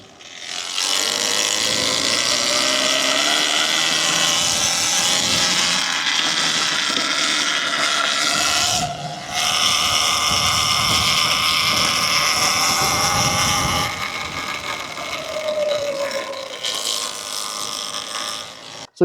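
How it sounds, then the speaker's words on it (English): A Sur-Ron Ultra Bee electric dirt bike motor whines close by, holding a steady high-pitched electric drone with shifting tones and a short dip midway, running on its own without talk for nearly twenty seconds. "This is about as loud as the bike is."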